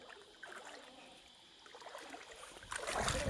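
Water trickling and gurgling outdoors, quiet and steady at first, then swelling into a louder, broader rush toward the end.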